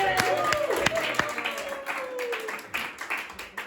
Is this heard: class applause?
yes